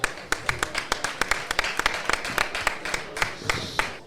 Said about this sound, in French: je pense qu'on peut aussi l'applaudir